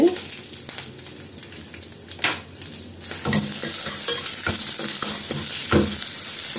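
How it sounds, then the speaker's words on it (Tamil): Oil sizzles and crackles steadily while green chilies, curry leaves and garlic are stirred in a pan, with scraping clinks; the sizzle grows louder and fuller halfway through. "சும்மா லைட்டாக வதக்கிக்கலாம்."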